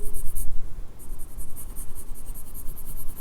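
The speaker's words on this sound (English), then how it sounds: "I'm just going to add a little bit of pencil" A watercolour pencil scratches across paper in close, continuous colouring strokes, a dry rhythmic scribbling that stays steady and fairly loud throughout.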